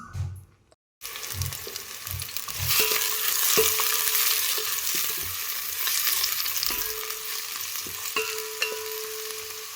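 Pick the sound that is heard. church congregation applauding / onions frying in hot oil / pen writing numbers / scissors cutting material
onions frying in hot oil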